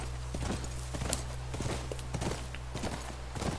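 Horse hooves clip-clop at a steady walking pace in the video game The Last of Us Remastered, over a constant low hum, moderately loud and close, with no talk.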